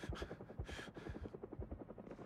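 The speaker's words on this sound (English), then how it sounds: "Is that a helicopter?" Helicopter in the video game Project Zomboid thumps with rapid, rhythmic rotor beats, faint and steady throughout.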